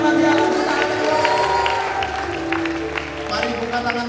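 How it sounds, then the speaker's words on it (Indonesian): A church congregation claps and cheers at a worship night, with a busy crowd texture and voices mixed throughout. "Tepuk tangan bagi Allah."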